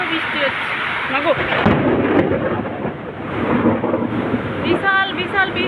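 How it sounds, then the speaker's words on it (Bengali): Heavy rain roars steadily over a rooftop while a deep rumble of thunder rolls underneath, loud and close, with wind buffeting the microphone and a voice speaking over it near the end. "বিশাল বিশাল বৃষ্টি, বিশাল বাজ পড়ছে।"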